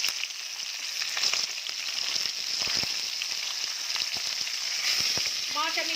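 Fish fries in hot oil in a home kitchen, giving off a steady bright sizzle with crackling pops and the occasional stir.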